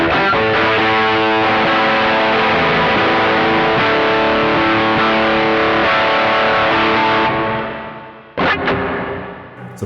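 Electric guitar run through the reverb of a Caline CP80 Ragnarok delay and reverb pedal, loud sustained chords and notes with a washy tail that fades out, followed by a couple of brief strums near the end.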